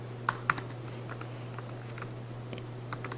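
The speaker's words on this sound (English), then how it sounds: "Now I'm just going to be typing in dummy information here." Quiet, irregular keystrokes on a computer keyboard as form details are entered into tax software, light clicks scattered over a steady low electrical hum.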